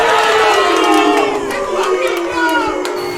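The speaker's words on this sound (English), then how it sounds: "You can hear the crowd." Crowd of spectators at a Super Smash Bros. tournament cheering and roaring loudly and continuously, a dense wall of shouting voices with scattered claps.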